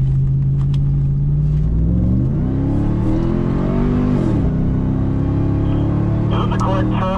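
A group of side-by-side off-road vehicles drive past and slow down during a pre-run, with a loud, close engine rumble rising and falling in pitch as they decelerate, plus wind buffeting throughout.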